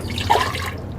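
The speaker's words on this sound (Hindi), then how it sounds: "ये 2 गिलास पानी हम डालते हैं कुकर में" Water being poured from a glass into a pressure cooker while making Lahori hareesa, a short soft splash and trickle over low background noise.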